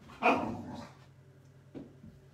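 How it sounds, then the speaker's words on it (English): A boisterous puppy barks in a loud, sharp burst near the start, followed by a couple of fainter yips a moment later, with quiet room tone in between. "We've got a boisterous puppy today."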